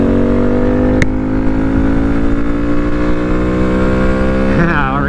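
Honda Grom and Benelli TNT135 motorcycles accelerate hard on a top-speed run. A loud, close engine drone climbs steadily in pitch over rushing wind, and there is a brief shift near the end.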